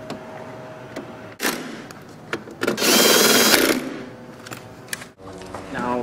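A power tool drives T30 bolts back into a car's fuse box cover, giving short close whirring bursts, one longer run, and clicks in between.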